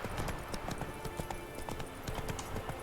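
Hooves of Roach, the horse in the video game Witcher 3, clip-clopping in a steady galloping rhythm, close and fairly loud throughout, with a faint whinny and no talking.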